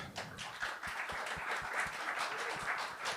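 Show audience clapping to vote on a question about belief in extraterrestrials: moderate, somewhat scattered applause with individual claps and taps audible, fairly close and without speech.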